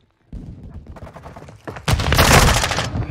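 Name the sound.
gunfire in the Call of Duty video game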